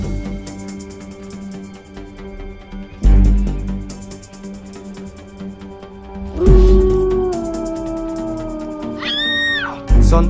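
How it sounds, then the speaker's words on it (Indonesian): Loud drawn-out wolf howls near a forest rise and bend in pitch over a tonal, noisy background, with abrupt thumps breaking in between the wavering cries. "mengeluarkan suara lolongan serigala"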